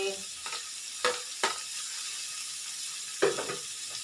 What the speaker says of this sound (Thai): เอานี่ลงไปเลยหัวหอมใหญ่